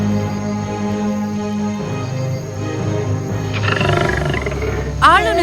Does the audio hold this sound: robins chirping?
no